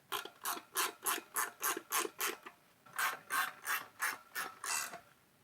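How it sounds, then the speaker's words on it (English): A tire changer's mechanism locks a motorcycle laced rim onto plastic spools, giving a close series of rhythmic ratcheting rasps, about a dozen evenly spaced strokes with a short pause midway. "secure the rim onto the changer, locking the outside edge of the rim onto the plastic spools."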